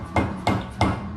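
Three sharp hammer strikes knock a drilled and slotted brake rotor onto a Foxbody Mustang hub, evenly spaced, close and loud with a short ringing decay.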